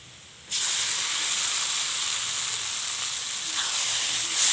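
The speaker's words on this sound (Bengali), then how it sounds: "ডালটা আমি শুকনো শুকনো করে ভেজে নেব।" Boiled lentils dropped onto browned onions in a hot pan set off a sudden sizzle that becomes a continuous bright hiss, steady and close, with no talk.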